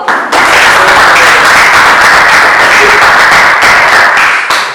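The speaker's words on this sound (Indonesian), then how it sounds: "Tepuk tangan dulu." A classroom audience claps together after student group presentations at a Christian religious education teaching session, a loud, steady, dense applause running without pause for the whole stretch, with a brief drop right at the start.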